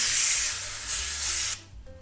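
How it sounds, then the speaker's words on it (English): Cooking spray sprayed into a 9x13 baking pan, one steady, close hiss lasting about a second and a half before cutting off abruptly, leaving quiet room noise. "This is the 9x13 we're gonna bake them in. And I'm just gonna give this a little spray."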